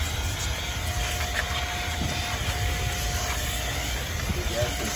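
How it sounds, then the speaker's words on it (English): The blower on a 2004–2009 Toyota Sienna runs with a steady, fairly loud broadband whoosh and a faint tonal hum. It stays continuous and even throughout, with no pauses. "Here we have a blower."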